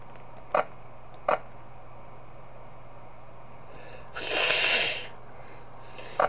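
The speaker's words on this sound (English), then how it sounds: "Sorry, I just had to blow my nose." A person blowing their nose indoors at night, a broad nasal honk lasting about a second, close and fairly loud, preceded by two short sniffs in an otherwise quiet room.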